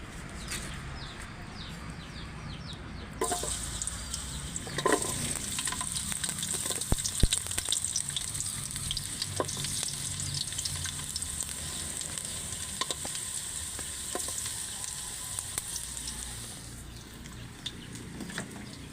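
Chopped garlic sizzles in hot oil in a pan with a steady frying hiss, broken by occasional utensil scrapes and clicks from stirring, while a faint chicken clucks now and then in the background.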